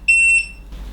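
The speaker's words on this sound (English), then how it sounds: "as you can see or hear, then it's beeping at you" A Lefant F1 robotic vacuum cleaner gives off a locator signal: two loud, high electronic beeps in quick succession, the second shorter, alone and close up before a quiet room hush.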